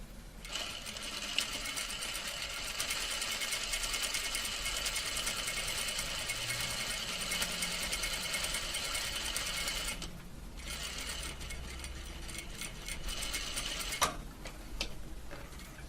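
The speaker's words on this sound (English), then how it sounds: "line that folded edge up with the 1/4 inch marking on my machine and stitch a 1/4 inch seam all the way down" A sewing machine runs steadily while stitching a quarter-inch seam along a folded fabric edge for a French seam, a close mechanical whir that pauses briefly twice before resuming.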